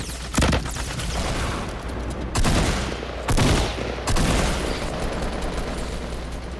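Gunfire in a Fortnite Battle Royale match: several loud, sharp bursts of shots spaced a second or so apart over a constant background of game ambience.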